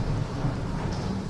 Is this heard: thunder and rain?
yes